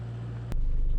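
A four-wheel drive vehicle crawls in low range over a rocky ridge track, its engine a steady low drone, with a sharp knock midway as the tone shifts.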